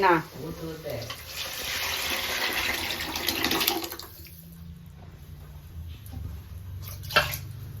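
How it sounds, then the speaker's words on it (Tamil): Fish curry poured from a vessel in a home kitchen, a steady liquid splashing and pouring rush for about four seconds, then quieter clinks and handling sounds with a brief sharp knock near the end. "குழம்பு இதோ ஊத்த போறேன்"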